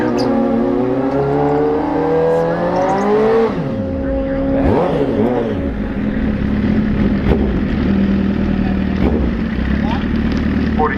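Drag racing motorcycles at Orlando Speed World, engines droning and revving loudly with a pitch sweep as a bike passes, under a commentator's steady talk throughout.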